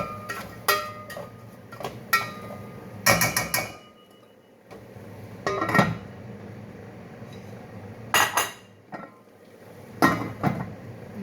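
Corn kernels being sautéed in a pot with a spatula, giving irregular bursts of metallic scraping and clanking against the pot, some sharp and close, separated by quieter gaps with a faint background hiss.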